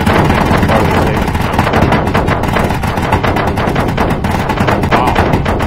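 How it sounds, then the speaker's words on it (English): Loud, continuous rapid gunfire from weapons shooting at a small ship during a pirate base attack in the Space Engineers video game, a dense burst of automatic shots that lasts throughout. "Can you not shoot the small ship? I'm going to shoot it"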